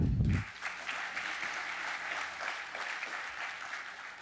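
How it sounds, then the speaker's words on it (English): Audience applauding the Board of Education at the Nathaniel S. Colley High School dedication, sustained, even clapping from a crowd after a brief low thump at the start, holding steady and fairly distant throughout. "a round of applause for our colleagues, our Board of Education"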